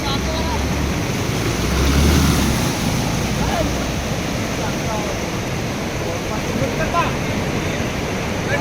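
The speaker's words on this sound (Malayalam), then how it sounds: "മഴ കനത്തതോടെ വടക്കഞ്ചേരി മുടപ്പല്ലൂർ കരിപ്പാലിപ്പുഴ കരകവിഞ്ഞു" Steady loud roar of the flooded Karippalippuzha river overflowing its banks at Mudappallur, Vadakkanchery, during heavy rain, broad and continuous, with wind buffeting the microphone.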